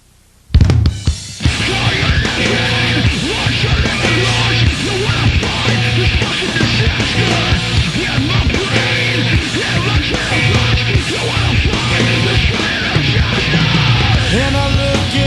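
A song plays loud from a video: after a second of near silence, a dense, steady band mix with strained, yelling vocals kicks in and continues throughout.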